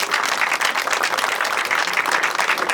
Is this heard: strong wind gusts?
no